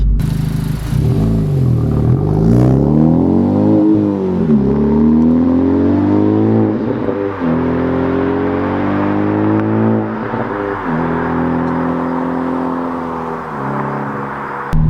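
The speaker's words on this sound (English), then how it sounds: "this is definitely like burbling, kind of popping a little bit in between shifts" A 2021 Honda Civic Type R with a MAP track exhaust revs loudly and continuously up close, its pitch climbing and dropping through several rev cycles with burbles and light pops between shifts.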